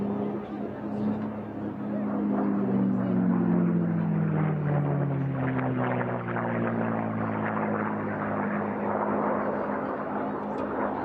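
An Unlimited class air racer roars past during a race heat, its engine drone swelling and then falling in pitch as it goes by, loud and steady with no voices over it.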